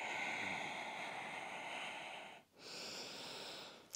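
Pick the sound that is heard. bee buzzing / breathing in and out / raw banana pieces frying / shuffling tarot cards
breathing in and out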